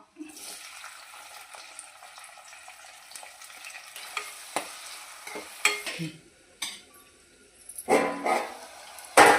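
Green chillies dropped into hot oil with cumin in a pan, a low crackling sizzle broken by stirring scrapes and spatula knocks that grow louder toward the end, near and with no voices.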